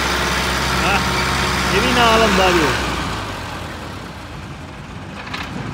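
An old Fiat 640 tractor, hauling a fully loaded trolley, runs with a steady mid-pitched engine drone throughout. Someone talks over it, and the engine noise eases slightly toward the end.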